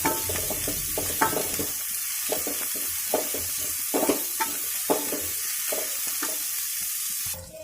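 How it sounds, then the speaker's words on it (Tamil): Chopped carrot and capsicum sizzle steadily in a hot pan for fried rice, with a spatula scraping and knocking through the vegetables in irregular strokes. "இது எல்லாத்தையும் போட்டு நல்லா வதக்கிடுங்க."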